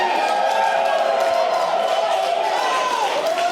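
A wrestling crowd at a tag team championship match in a DEFY show roars in a steady wash of cheering and booing, loud and continuous, filling the hall.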